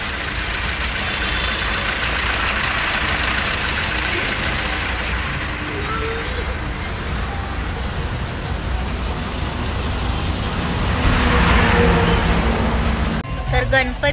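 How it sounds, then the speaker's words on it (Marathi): Heavy holiday traffic jam on the Mumbai–Pune route near Khed Shivapur, a steady dense rumble of idling trucks and vehicle engines filling the air, broad and continuous, swelling slightly near the end. "ट्रॅफिक जॅम झालेला आहे."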